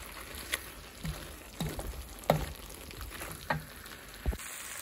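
Potatoes frying in oil, a steady low sizzle broken by a handful of brief pops and crackles scattered irregularly across several seconds, close by with no talking.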